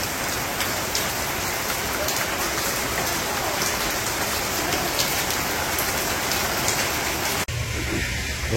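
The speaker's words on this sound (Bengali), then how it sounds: "আবার এই যে বৃষ্টি শুরু হয়েছে, টিপটিপানি বৃষ্টি।" Steady drizzling rain falls on a Bangladeshi village during the rainy season, a dense even patter close by that runs unbroken and then cuts off abruptly near the end, with no talking.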